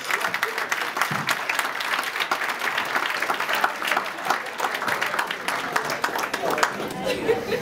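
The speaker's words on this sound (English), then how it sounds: "A big round of applause for Mrs." Applause from wedding reception guests, steady dense clapping throughout with a crowd murmur and voices mixed in underneath.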